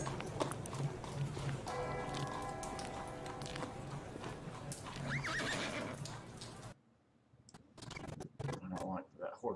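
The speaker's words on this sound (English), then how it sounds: "I don't like that horse is there" A horse neighs and whinnies over hooves clip-clopping, part of an ambient music track, with layered clicks and shuffling; the sound drops to near silence before sparse sharp clicks and movement return.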